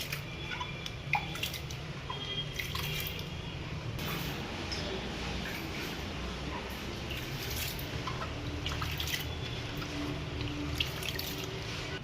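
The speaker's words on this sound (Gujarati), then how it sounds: "આવી રીતે આમ ધોઈ નાખવાનું, એટલે આ જે મગની ફોતરી છે એ ઉખડી જાય" Split moong dal is rinsed in a bowl of water for Gujarati dalvada, with faint soft sloshing, drips and trickles that go on steadily, quiet and close.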